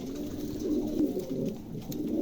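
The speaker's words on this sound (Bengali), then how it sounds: "চমৎকার এক জোড়া কবুতর" A pair of bull head long face pigeons, one colored male and one Indonesian-colored female, coo in a continuous low rolling drone, close and steady throughout.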